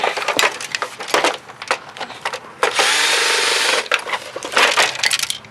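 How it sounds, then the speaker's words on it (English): An old sewing machine is dismantled for scrap metal, with loud cracking, clattering knocks and scraping in irregular bursts, plus a sustained whirring power-tool stretch in the middle. "This old sewing machine I'm gonna take apart."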